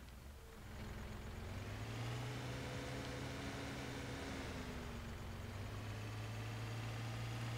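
The engine of a compact 4709 tractor idles steadily in Farming Simulator 17, a quiet, continuous low rumble with faint higher harmonics, with no speech.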